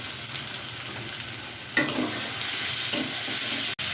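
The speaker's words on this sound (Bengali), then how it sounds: "টমেটোটা দিয়ে নাড়াচাড়া করে" Chopped tomato hits a pan of fried ginger-garlic paste and is stirred, giving a steady close sizzle with a sharper burst of frying and scraping midway and a brief dropout near the end.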